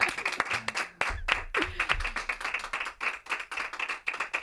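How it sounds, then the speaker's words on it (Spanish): Studio audience on a radio show applauds, a moderate crowd of hands clapping steadily, with a brief voice and low thumps early on. "voy a pedir que aplaudan"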